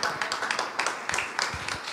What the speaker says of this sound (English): Another hand of a clap for our dear sister.